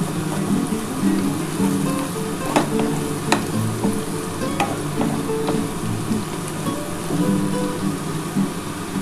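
Sliced onions sizzle steadily in a hot pan as a spoon stirs them, with occasional sharp scraping clicks over a constant close frying hiss; no one speaks.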